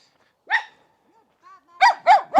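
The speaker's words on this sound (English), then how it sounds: "I've got a very vocal dog." An outdoor dog barking close by, with one sharp bark, a soft whine, then three quick loud barks in a row against otherwise quiet surroundings.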